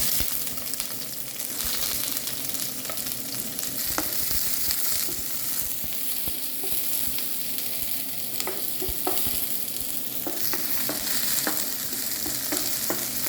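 Sliced garlic and onion sizzling and frying in a hot pan for a cauliflower dish, with a steady loud crackling hiss and occasional stirring clicks throughout, no talking.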